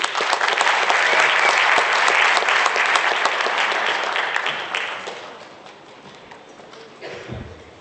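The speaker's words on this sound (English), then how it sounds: "Yes, another round of applause, ladies and gentlemen." An audience at an Africa Day 2017 event applauds steadily and loudly, the dense clapping slowly thinning and fading toward the end.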